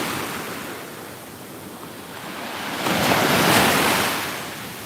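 Ocean surf at a beach rolls in steadily with wind noise on the microphone, building to a louder wash of breaking waves near the end.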